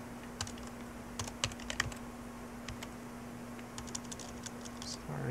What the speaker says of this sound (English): So I'm just going to type in some things.